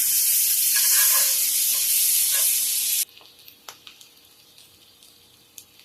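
Butter sizzles in a pan on the stove with a loud, steady hiss for about three seconds, then cuts off abruptly, leaving only faint scattered ticks and pops.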